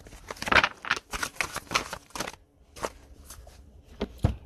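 Tarot cards are shuffled by hand in a quiet room, making a series of quick riffling, papery bursts and soft taps, with a pause midway before a few more flicks.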